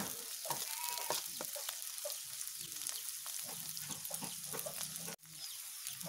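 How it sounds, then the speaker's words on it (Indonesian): Torch ginger flower stir-fried in a pan with sliced shallots, chili, shredded egg and fried tempeh, giving a steady close sizzle with scattered clinks and scrapes of stirring throughout, pausing briefly near the end. "bunga kecombrangnya aku akan oseng"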